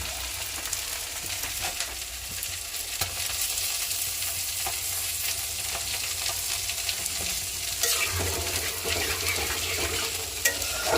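Fish fry in a pan with a steady crackling sizzle and occasional stirring scrapes, moderately close and with no talk.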